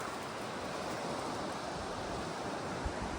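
Ocean surf rolls onto a white sand beach a half-mile walk from Pruth Bay, a constant broad wash of breaking waves mixed with wind, heard alone without voices.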